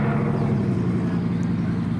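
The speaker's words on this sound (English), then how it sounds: "Oh, the Veyron's leaving as well." A Bugatti Veyron hypercar drives away from a convoy, giving a steady, low engine rumble at moderate distance.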